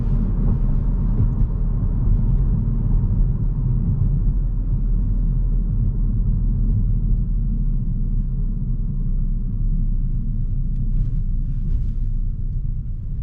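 Engine of a 2022 Honda Civic Sport while driving, a steady low rumble with road noise at lower revs, continuous and even throughout with no voices.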